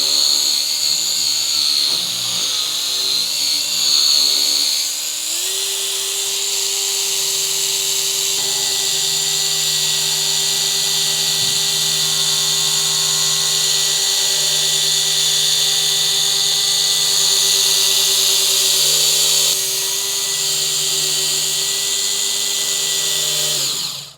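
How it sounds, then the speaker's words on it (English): A rotary polisher cuts paint on a 2007 Subaru WRX, a loud steady motor whine with high buffing hiss, pitch stepping up as the speed is raised, then running continuously for over twenty seconds. "The rotary seems to cut through the paint really quick."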